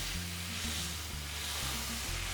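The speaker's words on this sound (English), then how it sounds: "You can see the butter beginning to foam and bubble away" Butter foams and sizzles in a hot pan before rib-eye steak goes in, a steady close crackle and hiss with low bubbling underneath and no voices.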